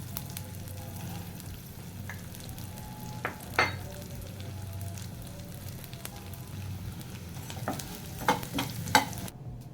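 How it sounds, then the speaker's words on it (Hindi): Edible gum (gond) roasting in ghee in a pan, giving a steady soft sizzle and crackle with a few scattered louder pops and scraping stirs. "ये गोंद है, इसको भूनूंगी"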